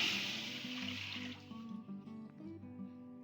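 Two glasses of water poured into a pressure cooker on the stove, a splashing rush at first that settles into soft trickling, close and quiet.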